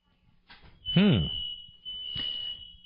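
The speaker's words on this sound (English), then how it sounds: "Sounds like our fire alarm is going off here." A studio fire alarm emits a steady high-pitched electronic tone that holds continuously while someone speaks over it.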